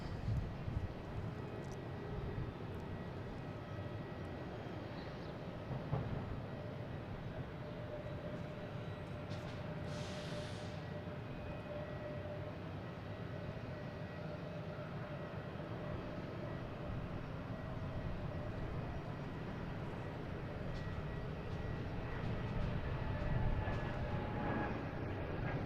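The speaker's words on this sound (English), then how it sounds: "Next taking off is JetBlue, heading to Chicago, flight 811." A JetBlue airliner on flight 811 takes off from Boston Logan toward Chicago, heard as a faint, distant, continuous engine rumble that swells gently toward the end, with no talking.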